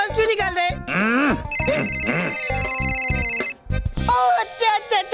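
A man imitates a telephone ringing with his voice, a steady high electronic-style trill held for about two seconds, with other people talking loudly before and after it.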